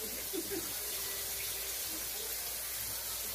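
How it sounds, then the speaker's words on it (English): Tap water runs steadily into a sink as mushrooms are rinsed, a constant even splashing hiss that stays fairly quiet and unbroken throughout, with no talking. "Rinse out the mushrooms, whether you buy them whole or pre-sliced, because they are dirty."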